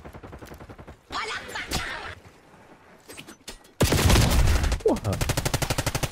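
Gunfire from Call of Duty: Black Ops 6 in an Iraq stage, with a weak in-game gun: short bursts early, then a loud, dense run of rapid automatic shots near the end, each repeat clearly spaced.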